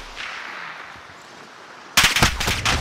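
Gunfire in the shooter game Warzone: after a quiet, hissy stretch, a loud close burst of rapid automatic shots erupts and keeps rattling to the end.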